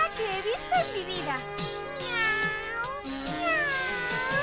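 A cartoon cat meows repeatedly, several drawn-out, rising and falling mews in close succession, close and clear, with other voices mixed in.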